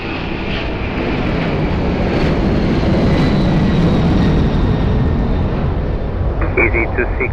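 Airliner landing on runway 02 at Lisbon Airport, a loud, continuous jet engine roar filling the whole stretch, with radio chatter and voices over it.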